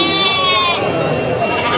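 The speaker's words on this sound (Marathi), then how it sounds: "आज आपण कव्हर करणार आहे सायखेडा मेंढी बाजार" Sheep bleating loudly and close by at the Saykheda sheep market, a continuous wavering chorus of several animals over the busy din of the livestock market.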